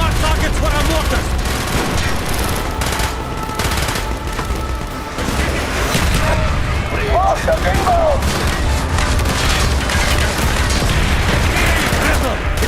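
Mortar strikes and gunfire in the Call of Duty Black Ops level Project Nova, a dense, loud barrage of booms and rattling shots going on throughout, with voices calling out over the din.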